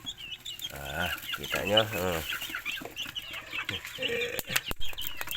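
Chickens on a small poultry farm, fighting: busy clucking and squawking with bursts of wing flapping, and a person speaks briefly close by.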